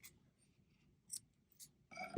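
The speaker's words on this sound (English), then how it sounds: "And I'm going to cut away the extra." Scissors snip away extra sock material in a quiet craft setting, a few faint, close cuts spaced out, ending in a slightly louder snip.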